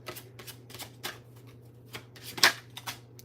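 A deck of cards is shuffled by hand in a quiet room, producing a series of quick riffling bursts with a sharper snap near the end, all over a faint steady electrical hum.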